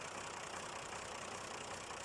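A tractor engine labors to haul a rocket trailer stuck in mud, a steady, faint, unbroken mechanical drone without distinct changes in pitch or any speech.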